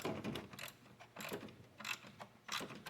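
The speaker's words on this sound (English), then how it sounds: "start threading the bolt in" Faint mechanical clicking and ratcheting in short bursts as a bolt is threaded in during alternator replacement on a 2004 Subaru Forester, close but quiet, with no speech.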